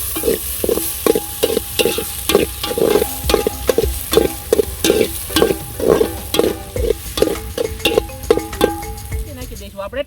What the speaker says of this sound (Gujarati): ત્યારબાદ નાખી દઈશું આપણે લીલા મરચા. આને સારી રીતે મિક્સ કરી નાખશું